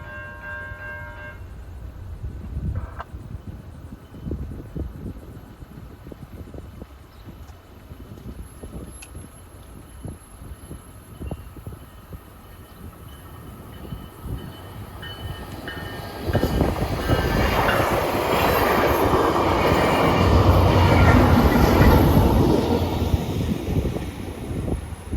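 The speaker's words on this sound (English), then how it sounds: "we get stopped by one last TriRail before hitting the highway" A TriRail commuter train passes a road crossing, a low rumble from a waiting vehicle building into a loud, broad roar of rolling wheels and cars that swells and lingers before easing slightly.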